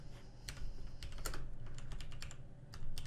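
Computer keyboard typing, used while entering text into a Microsoft Excel 2016 spreadsheet, gives a steady run of light key clicks with a few sharper taps, alone over a low background hum.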